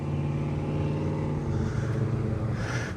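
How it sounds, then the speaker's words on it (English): A car engine revs on a neighbourhood street: a loud, close, steady droning rumble with a strong low hum that holds for the whole stretch, with no voices over it. "that's when they revved up their engine"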